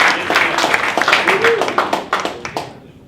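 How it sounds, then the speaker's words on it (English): An audience at a blockchain tech talk applauds, a round of brisk clapping from a modest crowd that rises and then fades out, with a voice faintly present at first. "I wanted to actually trigger another round of applause for"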